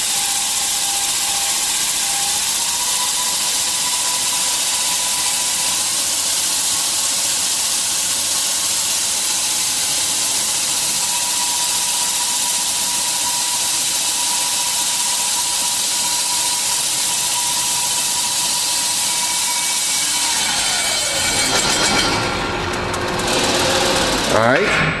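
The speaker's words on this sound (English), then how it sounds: "then you'll start your abrasive belts, and you can adjust your abrasive belts as you see fit." A stainless steel tube polishing machine runs abrasive belts over tubing, giving a steady loud whine and hiss with a faint tone that shifts near the end as the pitch drops.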